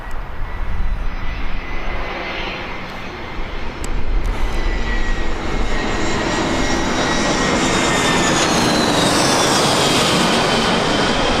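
Jet aircraft engine roaring at Birmingham Airport, a loud broad rumble with a rising whine that builds after a few seconds and holds steady and close for the rest of the clip.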